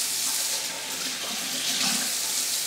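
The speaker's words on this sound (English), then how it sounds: "So let me turn the water on." Kitchen tap running steadily into a sink while gluten-free ciabatta bread is being made, a continuous close hiss of flowing water with no talk over it.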